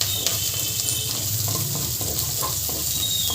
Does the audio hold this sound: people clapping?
no